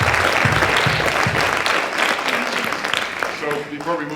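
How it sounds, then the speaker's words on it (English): A room full of people applauds steadily for a girl's rope-swinging demonstration at an edutainment symposium, the clapping dense and sustained before thinning toward the end. "so round of applause for just being able to swing it that good"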